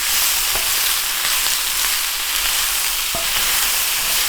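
Squash and green tomato sauté sizzling steadily in a pan while being stirred, a continuous close frying hiss with a few faint clicks of the utensil.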